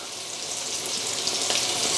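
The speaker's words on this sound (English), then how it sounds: "We're just creating that sear on the coating, getting that coating kind of set." Coated pork chops sear in a frying pan with a dense, continuous, close-up hiss and crackle of hot oil that holds steady throughout.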